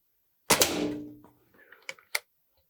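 A Reximex Lyra PCP air rifle fires a single sharp crack followed by a brief metallic ring, then a few small clicks and handling knocks.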